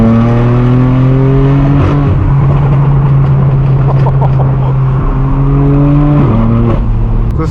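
A straight-piped BMW M4 F82 roars loudly on the road from the driver's seat, its exhaust droning with strong steady harmonics that shift as the car changes gear and speed.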